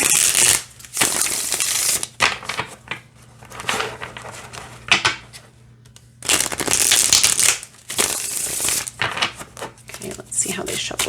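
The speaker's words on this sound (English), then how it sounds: "See how they shuffle this way." Phantasma tarot cards are shuffled by hand in bursts of crisp, snappy riffling with short pauses between, close up and loud.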